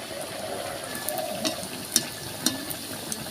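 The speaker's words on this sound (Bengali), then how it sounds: "এবার একে একে এগুলো ভেজে নেব।" Semolina sweets (bhaja misti) fry gently in oil over low heat, giving a soft steady sizzle broken by a few sharp pops and clicks.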